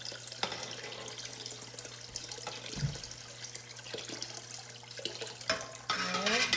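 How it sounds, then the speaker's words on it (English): Water splashes from a tap into a pot of concentrated chicken broth to dilute it, running steadily under a low background hum and building to a louder pour near the end. "I'm going to add some water to it. Quite a bit of water, actually."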